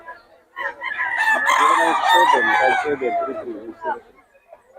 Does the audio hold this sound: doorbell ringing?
no